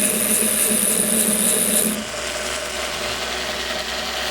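A grinding machine runs steadily, grinding the lock face on a knife blade held in an angle-setting fixture; a loud continuous whirring hum with a high whine that drops off about halfway, the motor noise carrying on alone.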